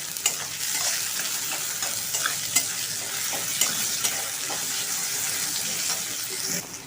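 Onions fried until reddish, with chopped tomato and two whole green chillies just added, sizzle steadily in a pan, a constant bright hiss broken by occasional scraping clicks of stirring.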